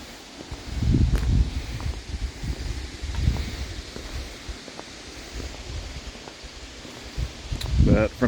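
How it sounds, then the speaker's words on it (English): Gusts of wind buffeting outdoors at a shooting range with rustling leaves, rising and falling in bursts, with rumbling microphone wind noise. "It's a little windy today."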